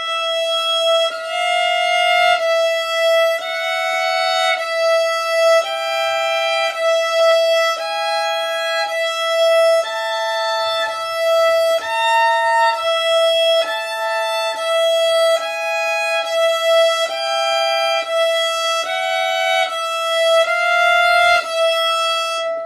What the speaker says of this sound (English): Here we go with the last step of this exercise, which is now playing 2 strings at once.